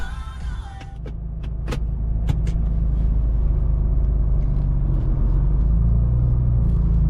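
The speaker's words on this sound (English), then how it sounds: "it does have some transmission whine. That is the straight cut Albin's gear set" A 1,200-horsepower car on the road with a straight-cut Albin's gear set, its steady loud engine and road rumble carrying a thin rising transmission whine that drops away as it shifts, with a few clicks near the start.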